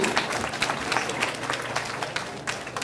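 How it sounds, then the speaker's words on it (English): Audience applause at a school senior breakfast, a steady, fairly quiet wash of many hands clapping across the room without a break. "No applause or anything?"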